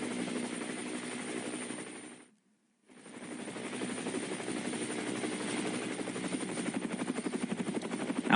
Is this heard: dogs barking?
no